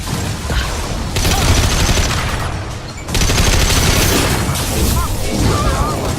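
Loud sustained gunfire from a sci-fi shooter game, Mass Effect 2, rattles in dense rapid bursts with a brief lull around the middle before a second heavy volley.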